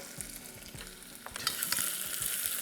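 Onion fries in a pan, turning brown and translucent, with a steady close sizzle. Stirring scrapes break through, and the hiss grows brighter and louder partway through.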